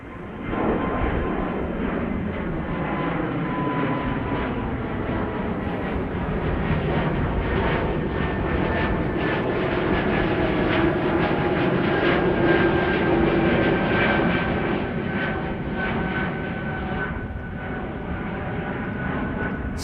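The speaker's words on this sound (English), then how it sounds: "There's the Air France A220 already airborne." Air France Airbus A220 jet taking off at Amsterdam Schiphol on a sunny day, a loud sustained engine roar with a slowly drifting whine, steady throughout and heard from a distance without talk.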